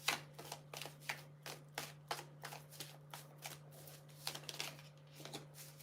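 Tarot cards are shuffled by hand in a quick, irregular series of soft riffling snaps and taps, fairly faint and close. A steady low electrical hum sits underneath, and no one speaks.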